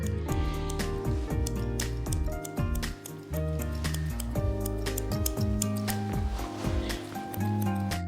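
Scissors trim a Bichon Frise's coat, giving a string of small snips and clicks through the clip under steady tonal background music.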